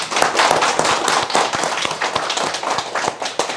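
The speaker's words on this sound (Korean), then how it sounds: "박수로 시작할까요?" Studio audience clapping to open a televised debate between Gangwon Province education superintendent candidates, a dense steady patter of many hands filling the whole stretch at moderate loudness with no talk over it.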